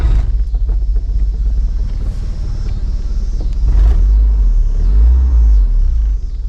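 A Nissan 240SX or 300ZX engine idles at close range with a steady low rumble, a loud aftermarket fuel pump adding a constant whine on top; no one speaks.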